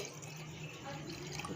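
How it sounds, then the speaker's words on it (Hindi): Water from three glasses poured into a cooking pot for degi saag gosht, a soft steady trickling and splashing that runs continuously at low level with no talk. "3 गिलास मैंने पानी ऐड कर दिए इसमें।"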